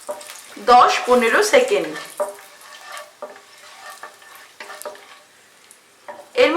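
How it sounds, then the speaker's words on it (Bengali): Whole cardamom, cinnamon, cloves and peppercorns crackle in hot oil in short bursts of sizzling and stirring, loud at first and then fading to lighter spits, with someone speaking briefly over it. "ফোড়নটাকে ফ্রাই করে নেব"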